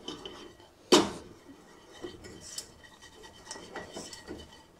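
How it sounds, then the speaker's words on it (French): A metal whisk scrapes and clinks against a saucepan off the heat, mixing baked beignet batter, starting with one sharp clang followed by soft, irregular stirring scrapes, close by. "je retire la, casserole du feu et je mélange avec le fouet."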